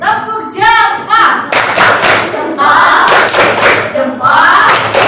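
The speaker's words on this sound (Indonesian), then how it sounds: "Tepuk jempol untuk kelompok." A group of children in a classroom does the rhythmic tepuk jempol clap, with loud, close sets of clapped beats mixed with voices chanting along, the claps coming in uneven bursts under and between the group's chant.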